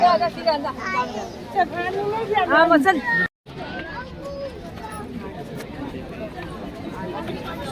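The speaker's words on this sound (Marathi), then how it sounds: "बघ ना गर्दी, बघ ना, दाखवते गर्दी." Busy crowd at the Ekvira waterfall on a Sunday, with lively chatter and children's voices forming a dense, continuous babble, broken by a brief dropout partway through before the hubbub carries on.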